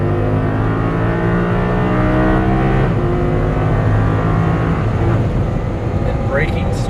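An Audi R8 accelerates hard on a race track, its engine note rising steadily in loud, continuous harmonic sweeps that reset as it shifts up, with a tone change about halfway through. A voice talks over the engine throughout.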